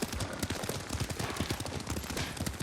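Rapid galloping horse hooves in the Ghost of Tsushima video game, a dense, loud rhythmic clatter of hoofbeats continuing throughout with a steady underlying rumble.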